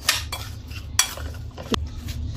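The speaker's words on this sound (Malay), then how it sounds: "Okay, sekarang kita gaul. Cara kita gaul gini je lah, kasih rata." Apple cake ingredients being stirred together in a bowl, with a utensil clinking and scraping against the sides in a few separate strokes, close by and with no voices.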